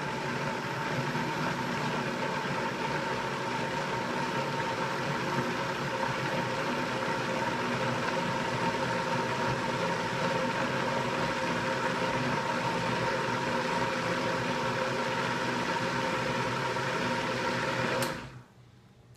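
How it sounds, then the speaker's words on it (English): A blender whirs steadily for about eighteen seconds while making mayonnaise, with a constant motor hum, then cuts off abruptly near the end. "you can start to hear the speed of the blender change"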